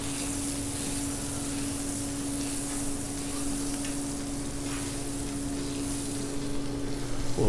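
Butter sizzles and fries on a hot Blackstone griddle in a steady, close hiss with crackling texture that swells slightly at the end, with no voices.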